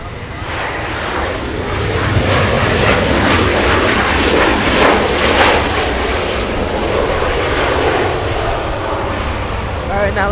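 A Boeing 737-800 jet airliner at Los Angeles International Airport roars steadily in broadband engine noise, loud and sustained for the whole stretch with a faint voice underneath.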